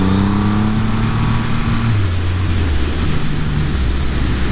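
A Triumph Rocket 3 motorcycle engine revs and climbs in pitch, then settles into a loud, steady drone, close up and with no talking.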